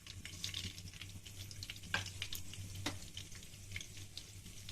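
Fenugreek, cumin and nigella seeds fry in hot oil, a soft crackling sizzle with scattered pops and stirring clicks over a low steady hum, close and quiet, no voices.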